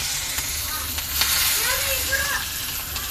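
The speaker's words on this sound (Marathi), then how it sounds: "लसूण थोडा फ्राय करून घेणार." Garlic, cinnamon, whole spices and curry leaves frying in hot oil for egg curry, a close, steady sizzle with occasional pops and stirring scrapes, plus a faint whistle-like tone midway.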